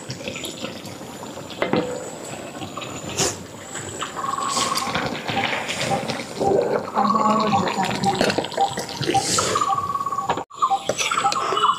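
Jackfruit curry poured bit by bit from a full wok, with wet sloshing and spoon scraping close up, steady clatter throughout and a brief pause near the end.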